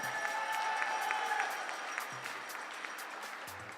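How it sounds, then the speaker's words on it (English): Applause from spectators at a European junior women's air rifle championship as a Danish shooter is introduced at her firing point, a steady moderate clapping that thins out slightly, with faint voices underneath. "round of applause for Stephanie Gunsor"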